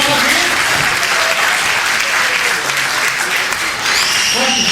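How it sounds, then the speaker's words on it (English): Audience applause fills the room at a magic show, a dense, steady wash of clapping from a crowd that holds loud throughout, with a few voices rising near the end. "Everybody give him a big round of applause."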